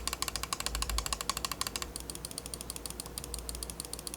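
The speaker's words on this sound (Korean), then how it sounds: "좌우 클릭 스위치는 로켓 타이탄 옵티컬 스위치로 로켓에서 최초로 적용한 광축 스위치입니다" Left and right buttons of a ROCCAT Burst Pro gaming mouse with Titan optical switches click in rapid, even succession, each press a crisp, close, slightly muffled tick repeating steadily.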